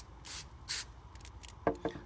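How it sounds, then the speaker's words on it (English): Cooking spray hissing from a can onto foil pouches for foil dinners: two short, close bursts, followed by a few faint rubbing and handling sounds. "So we're just gonna give it a quick spray."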